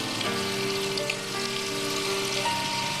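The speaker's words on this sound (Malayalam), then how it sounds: "ഈ മൈദ ഈ വെണ്ണയിൽ കിടന്നൊന്ന് മൂക്കണം" Flour, about three tablespoons of plain maida, cooking in two and a half tablespoons of melted butter as the base for a white sauce, giving a steady soft sizzle and crackle throughout, close and even, with no talk.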